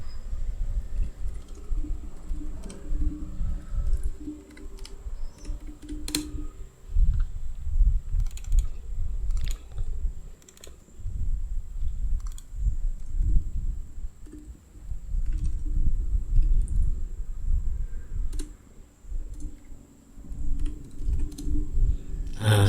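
Steady typing on a computer keyboard while entering text into an Excel spreadsheet, with irregular clicking keystrokes at close range that continue almost without pause over low background noise and no speech.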